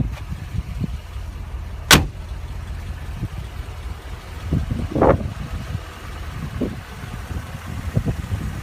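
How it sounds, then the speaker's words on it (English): The hood of a 2017 Mercedes-Benz G550 SUV pops open with one sharp, loud latch click, followed by a few softer thumps and handling knocks as it is raised, all with no voices. "Now let's pop the hood and see what the 2015 G550 have to offer."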